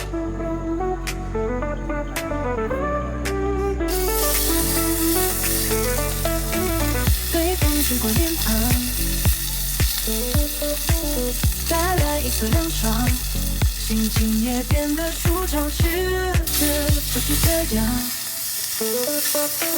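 Steak for a Filipino silog breakfast sizzles and spatters steadily in a hot pan, close and continuous, with stirring clatter and a short tap-water rush near the end.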